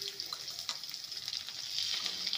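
Diced potatoes fry in hot oil, giving a steady bright sizzle with small crackles and pops that swells slightly toward the end, close and alone without talking.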